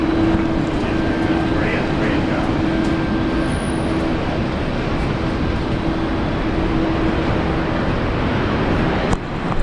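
A Velocity airliner lining up on runway 19 left at Brisbane Airport produces a loud, steady jet engine roar with a faint tonal whine, continuous and close, under a broad rumbling wash.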